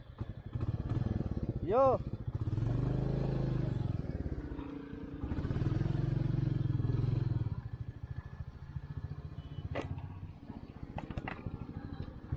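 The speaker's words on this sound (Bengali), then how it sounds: "তো এইটা হলো মেটিওর 350cc বাইক আমি এখন চালাচ্ছি।" A Royal Enfield Meteor 350cc motorcycle is ridden with a steady low engine thrum that swells and eases, while a person talks over it and a brief exclamation rises early on.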